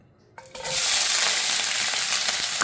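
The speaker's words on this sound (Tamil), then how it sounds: "எண்ணெய் நல்லா காஞ்சிடுச்சு இப்போது வெங்காயம் பொடியாக வெட்டி" Chopped onions hitting hot oil in a pan for a non-veg curry, a quiet start and then a sudden loud burst of sizzling that holds as a dense, steady hiss up close.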